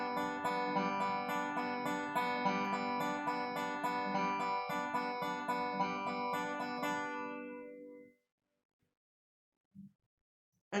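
Beginner dobro picks a rolling pattern in 3/4 time on the upper strings, bright ringing notes played steadily and alone for about eight seconds, then stopping with a couple of faint clicks after.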